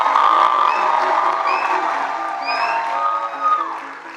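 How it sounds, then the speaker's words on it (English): An audience applauds and cheers for Billy Carson at a live stop of a speaking tour, a dense steady roar of clapping mixed with whoops and shouts that carries through the whole stretch, with a few voices calling out above it. "give a round of applause for Billy Carson"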